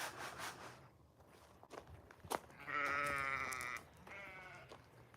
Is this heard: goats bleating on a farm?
yes